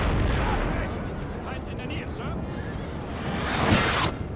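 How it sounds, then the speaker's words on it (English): Artillery fire in Napoleon: Total War: a dense, continuous rumble of distant cannon booms and battle noise, with a sharper burst near the end and a voice talking over it. "You should not fire your artillery right now."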